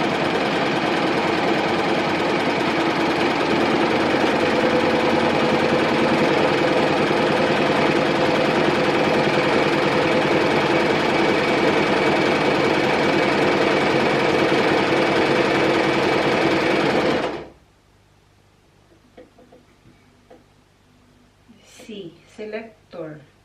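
A $25 secondhand sewing machine runs continuously for about seventeen seconds with a dense, steady mechanical whirr, then cuts off, leaving quiet room noise and a few faint voices.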